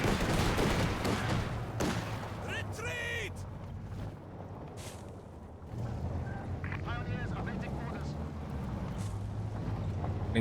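Rapid bursts of MG42 machine gun fire in a World War II strategy game match, dense crackling fire under steady commentary along with other battle noise.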